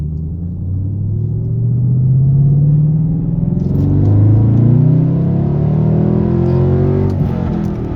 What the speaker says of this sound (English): Second gear, we're pulling out.